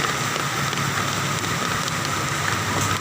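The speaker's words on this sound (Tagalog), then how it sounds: "talagang matindi ang habagat ngayon napakataas ng tubig baha tuloy tuloy ang ulan" Heavy monsoon rain pours steadily during a flood in Meycauayan, Bulacan, a dense, loud, even hiss close by with a low rumbling undertone and no talk.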